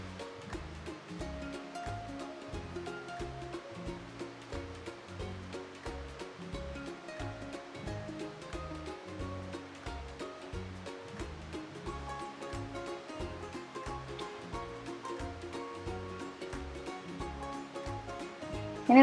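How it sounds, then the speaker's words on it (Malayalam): Running tap water pours steadily over mushrooms being rinsed in a kitchen, with a continuous splashing hiss and rhythmic bursts of water throughout, close and moderately loud, with no talking. "ഇനി നമുക്ക് കൂണ് നന്നായിട്ടൊന്ന് കഴുകിയെടുക്കാം."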